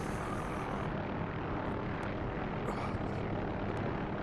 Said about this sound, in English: I'm just in the helicopter.